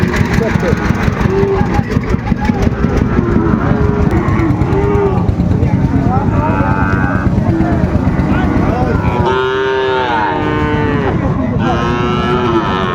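Shahiwal bulls and calves at a busy cattle market in Dinajpur let out loud, drawn-out moos, several in a row, over constant crowd noise and an idling engine hum.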